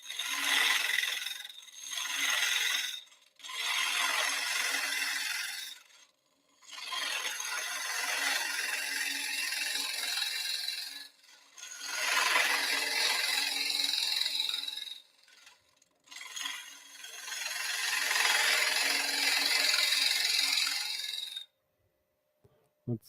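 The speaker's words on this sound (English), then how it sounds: "Just opening it up down there and then scraping up the sidewall." A wooden bowl spins on a lathe while a tool scrapes up its inner sidewall, giving close, raspy scraping in several long bursts separated by short pauses.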